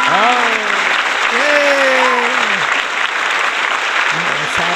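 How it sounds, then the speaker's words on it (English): Steady, loud audience applause at a stand-up comedy show, sustained throughout with a person talking over it in a rising, exclaiming voice. "That's some serious applause."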